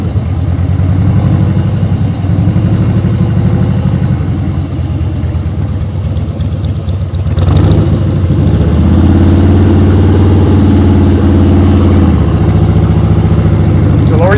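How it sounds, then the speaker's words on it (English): A motorcycle engine at low speed during slow-speed practice riding, revving steadily with a loud, continuous mid-low drone that rises in pitch partway through, close and sustained throughout. "Listen to those RPMs."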